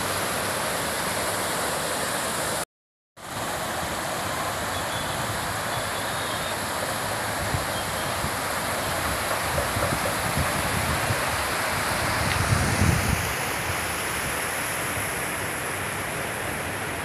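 Water from the overflowing Amanikere lake spillway in Tumakuru, swollen by good rains, pours in a continuous close roar that briefly drops out early on, then swells a little near the end.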